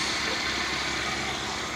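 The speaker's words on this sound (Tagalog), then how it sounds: "palya yung makina mga boss" A gasoline car engine fuelled with diesel by mistake, running rough and misfiring, heard close up as a steady dense rumble with faint uneven low pulsing.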